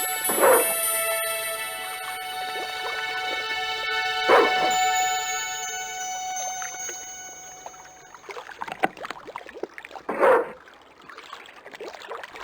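A dog in the 1997 point-and-click adventure Broken Sword II gives a few sharp barks at intervals over steady game music, each bark distinct and fairly loud.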